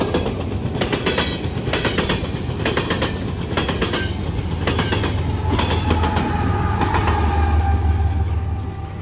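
A westbound Canadian National freight train rolls steadily past at close range, its wagons rattling with a rhythmic clickety-clack and a low rumble that continues throughout, with no voices.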